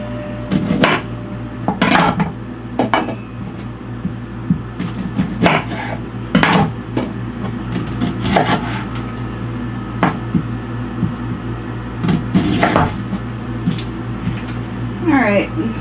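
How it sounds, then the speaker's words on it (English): A knife halves Brussels sprouts on a board in a boat galley, a series of irregular knocks and chops over a steady low mechanical hum. "got all my Brussels sprouts cut in half"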